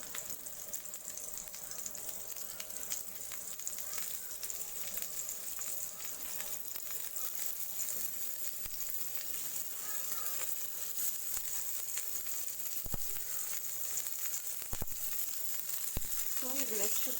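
Paneer sticks fry in hot oil in a pan for a spicy evening snack, giving a steady, moderate sizzle throughout with a few faint clicks near the end and no talking.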